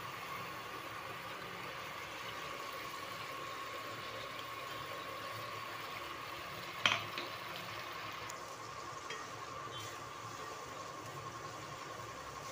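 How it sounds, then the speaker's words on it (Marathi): Masala spices frying in oil in a pan for dhaba-style paneer bhaji, a steady faint sizzle with low hum throughout and one brief clack near the middle. "हा चांगला तेलामध्ये फ्राय होऊन द्यायचा मसाला"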